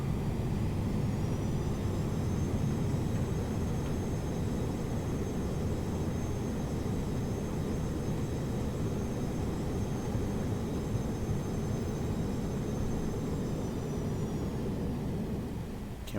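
Thrust reversers on a Boeing 737-200 deploy during landing in the CaptainSim flight simulator game, giving a steady, loud jet roar with a high whine that holds for about fifteen seconds before easing off.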